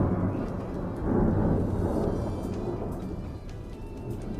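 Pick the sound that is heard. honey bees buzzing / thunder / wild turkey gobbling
thunder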